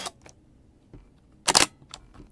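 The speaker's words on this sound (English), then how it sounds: "I definitely do hear a bit of shutter squeal / shutter whine coming out of the D30" Canon D30 digital camera shutter fires in one sharp burst, bracketed by a couple of softer mechanical clicks, close and isolated against a quiet room.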